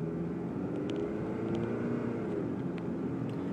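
A cold 2000 Honda Accord engine accelerating at low revs gives a steady, moderate drone with a smooth low hum that holds evenly throughout, with no talking.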